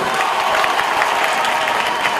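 An audience at a school results ceremony applauding top-ranked girls, loud dense clapping from a large crowd with faint cheering mixed in.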